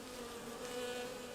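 Honey bees buzz steadily around an open, healthy hive during an inspection, a close continuous hum with a low droning tone and no talking.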